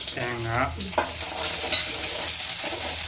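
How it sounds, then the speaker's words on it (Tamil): Garlic, ginger and coconut roast lightly in a pan with a steady, close sizzle and stirring, while a voice talks briefly at the start. "லேசாக வறுத்துடுக்கணும்."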